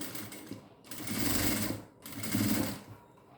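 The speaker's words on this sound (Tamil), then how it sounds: "மேலே நீங்கள் ஒரு படிமான தையல் போட்டுட்டு வரணும்" A sewing machine stitches lining cloth onto a blouse sleeve in two loud, close bursts of rapid mechanical whirring, with short pauses between runs and no speech.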